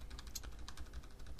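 Quick, irregular clicking of keys on a computer keyboard, close and fairly quiet, continuing without pause for the whole moment.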